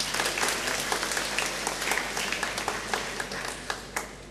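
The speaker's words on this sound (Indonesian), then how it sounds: "Nah, kita tepuk tangan." Congregation clapping during a Catholic Mass in a parish church, a fairly soft, continuous round of hand claps with some individual claps standing out toward the end, heard over a low steady hum and no speech.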